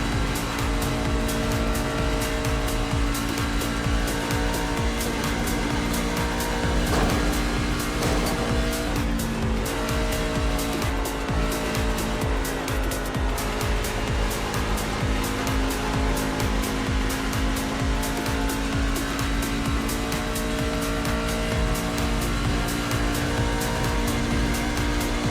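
Race trucks at Kentucky in the iRacing game, a dense continuous engine roar with repeated tire squeal, steady and loud throughout with no talk.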